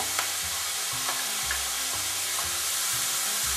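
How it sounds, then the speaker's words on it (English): Chopped carrot, red sweet pepper and celery sautéing in a pan, a constant close sizzle with soft scraping stirs repeating every half second or so, no voices. "we're going to move that all around, and we're going to let this cook until all the vegetables sweat"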